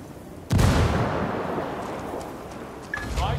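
A grenade blast in the video game Ghost Recon Wildlands, one loud sudden boom followed by a long rumbling decay, then gunfire and a short beep near the end.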